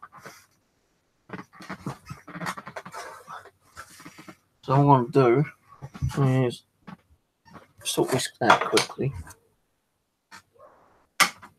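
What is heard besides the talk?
dog barking outside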